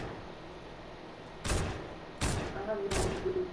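Gunfire in the video game Fortnite: three distinct sharp shots spaced under a second apart, moderately loud over a faint steady game background.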